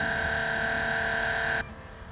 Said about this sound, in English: that is the sound of sewage being transported.